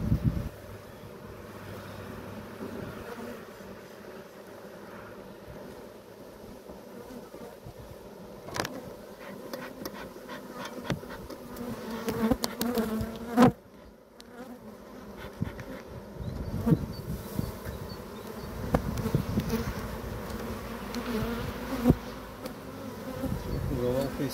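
Honeybees buzz steadily inside an open, uninsulated hive in spring, a dense continuous drone close to the microphone, with occasional bumps and handling noises and some light wind.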